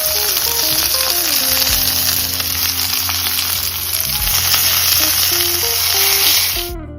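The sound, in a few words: tomato paste sizzling in a pan with short ribs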